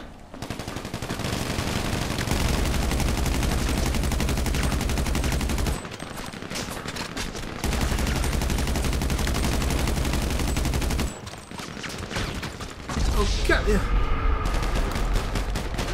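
Gunfire in the video game GTA 5 Online rattles out in long, dense automatic bursts, loud and close, broken by brief pauses between volleys.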